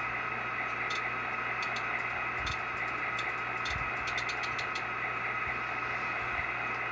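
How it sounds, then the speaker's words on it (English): Fast spitter valve effect on an HO scale Intermountain BN SD40-2 locomotive sound decoder, quick bursts of hissing spits repeating over a steady low idling engine drone, heard close and quiet. "Next is the fast spitter valve."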